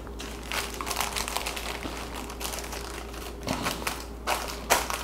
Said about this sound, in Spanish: Y con una mano de mortero las vamos picando.